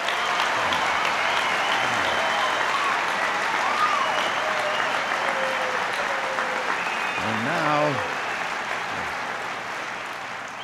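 A large rally crowd applauds President Reagan in sustained, dense clapping mixed with cheers, fading slightly toward the end while a voice briefly speaks over it.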